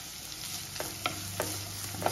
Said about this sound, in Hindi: ये मैं डाल दूंगी प्याज